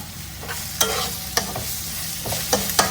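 Ginger roasts with browned onions in a pan under a dense, constant sizzle, punctuated every half second or so by sharp scrapes and taps of a spoon stirring through the mixture.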